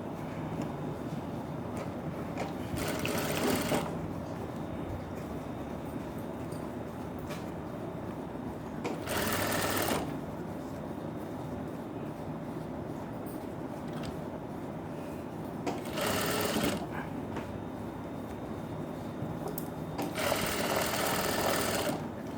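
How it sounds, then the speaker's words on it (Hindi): A sewing machine stitches a belt blouse in short bursts. It runs in four loud, rapid whirring runs of about a second each, separated by pauses of quieter room noise, with no talk. "अब एक साथ सिलाई लगा दूंगा मैं, देख लेना।"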